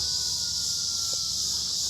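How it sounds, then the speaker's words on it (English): Loud cicadas drone in a continuous high-pitched shrill buzz filling the air outdoors, steady and unbroken, with faint low background rumble beneath and no talk. "Those cicadas are loud as I don't know what."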